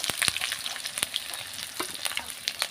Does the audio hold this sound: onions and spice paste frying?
yes